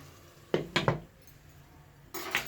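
A metal lid clanks onto a pot of palak paneer with a few quick clinks, followed by a pause and another brief rattle of metal.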